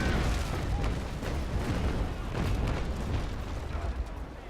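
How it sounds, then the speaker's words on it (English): Brig cannons fire a broadside in a naval PvP sea battle in the game Naval Action Legends, a rolling series of deep booms and blasts that overlap into a heavy rumble, loud and close throughout. "Let's get ready for a broadside and fire."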